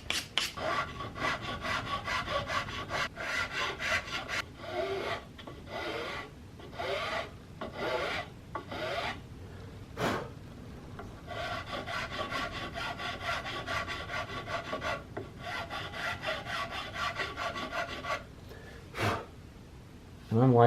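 Wood rasp worked over the underside of a CVA Hawken muzzleloading rifle stock, shaping a half-round curve: close, repeated scraping strokes in uneven bursts with brief pauses between them.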